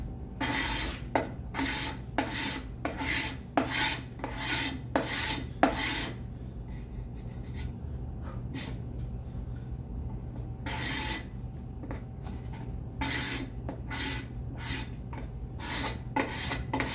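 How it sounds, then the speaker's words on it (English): A card scraper shaves the wood of a spice rack in quick, rhythmic rasping strokes, close and crisp, in a fast run of repeated passes, a pause, then another burst of strokes. "Nice thing about card scraper, it doesn't matter the direction you go."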